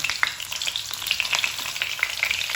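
Stuffed karela (bitter gourd) frying in hot oil in a pan, a continuous bright crackling sizzle with rapid popping spatters throughout, close and steady.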